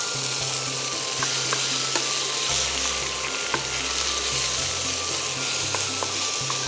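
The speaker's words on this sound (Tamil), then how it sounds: "இந்த தட்டி வச்ச பூண்டு தட்டி வச்ச பூண்டு கொஞ்சம் சேர்த்து சேர்த்து வணக்க ஆரம்பிச்சிக்கலாம்" Tomato and crushed garlic fry in a pan for a home remedy, giving a steady, close sizzle with occasional stirring clicks throughout and no talking.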